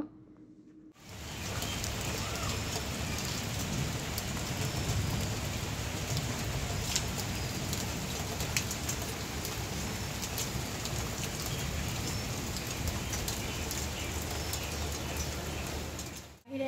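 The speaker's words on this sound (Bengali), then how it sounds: "এত সুন্দর বৃষ্টি হয়েছে" Steady rain pours down, a dense, even hiss of drops on surfaces that starts abruptly and continues unbroken before cutting off at the end.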